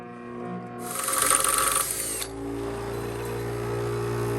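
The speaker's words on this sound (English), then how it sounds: "put your broken tap in your cordless drill and use a bench grinder" A broken tap spun in a cordless drill and pressed against a bench grinder: a harsh, close grinding burst of about a second rises over the grinder's steady motor hum, which carries on alone afterward.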